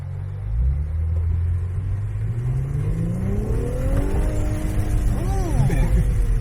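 Infiniti Q50 all-wheel-drive engine revving up with a turbo blow-off valve release, a loud rising roar with rumble at an open-house car meet, one revving pass building toward the end.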